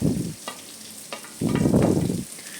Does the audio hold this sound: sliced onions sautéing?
yes